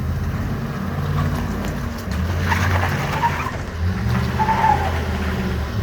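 A Chevy Suburban doing a front-wheel-drive burnout: a loud, steady engine roar with rough tire skidding that swells in two bursts, and no talk.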